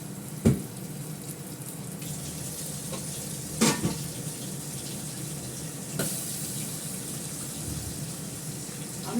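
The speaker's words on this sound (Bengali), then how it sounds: "আমার ভাতটাকে ঢেলে দিই, তাহলে না এর মধ্যে একটাও জল থাকবে না।" Cooked rice for egg biryani is tipped out to drain off its water. A steady rush of pouring, splashing water runs close and continuous, broken by a few soft knocks, with no talk.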